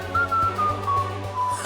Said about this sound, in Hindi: सिट्टी पिट्टी गुम होते ही सीटियां बजाने लगा छुटके।